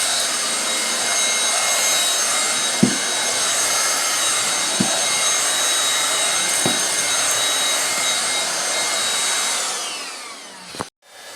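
A Bissell Ion Pet 2286A cordless vacuum runs on carpet with a loud, steady high-pitched whine and airy rush, a few faint bumps along the way, before cutting off with a clunk near the end.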